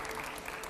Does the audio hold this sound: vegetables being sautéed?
no